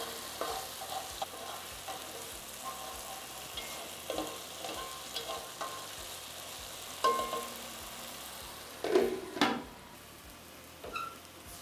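Tomatoes frying in oil: oil sizzling and crackling in a pan with occasional stirring scrapes and soft clinks, fairly quiet and steady with no talking.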